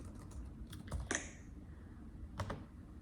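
Quiet, close keystrokes sound on a computer keyboard in a few scattered taps and short bursts as keyboard shortcuts are entered.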